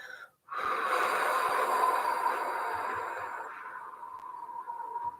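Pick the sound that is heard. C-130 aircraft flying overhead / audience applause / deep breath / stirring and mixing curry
deep breath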